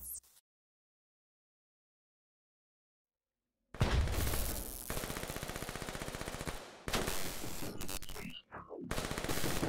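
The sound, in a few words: heavy gunfire in the video game Call of Duty: Black Ops 3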